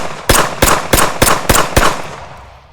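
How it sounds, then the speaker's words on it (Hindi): Gunshot sound effect from a bandit's gun in an animated Hindi story: six sharp, loud bangs fired in quick, evenly spaced succession, each with a short decaying tail, and no voices. "अचानक नवाबू डकैत ने गन निकाली और गोली चला दी।"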